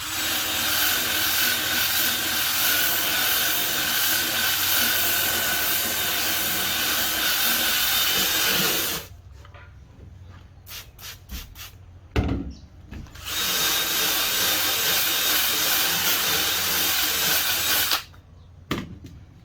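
A power drill scrubbing a couch whirs loudly and steadily for several seconds, stops with a few short bursts and knocks, then runs again before cutting out near the end.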